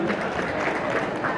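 Audience at a community association anniversary celebration applauding a sponsor, a short burst of steady, moderately loud clapping with crowd murmur.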